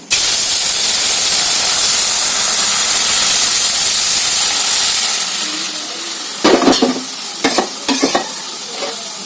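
A mixture cooking hard in a hot pot, a loud continuous sizzling hiss for several seconds that eases into quieter bubbling and a few stirring scrapes and clatters, close up with no voices.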